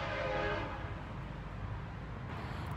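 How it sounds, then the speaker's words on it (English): A train passes nearby, its horn sounding loudly at the start for about half a second before a steady rumble of rail cars continues to the end. "Train."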